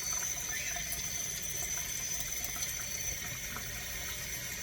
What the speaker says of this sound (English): They want you to squeeze this with cold running water to cool it down.